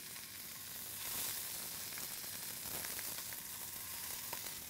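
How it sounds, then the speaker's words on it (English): Large seasoned scallops sear in a hot pan with a steady, loud sizzle that carries on throughout, with no talk. "We're going to put the scallops seasoned side down."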